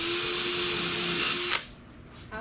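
A power drill runs loud and steady at close range with a constant whine, then abruptly cuts out into near silence, and a short burst of sound returns at the very end.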